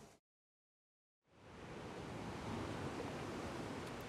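Ocean surf at the seaside in Odawara washing ashore as a steady, loud broadband roar, rising in after a brief silent gap and continuing without pause.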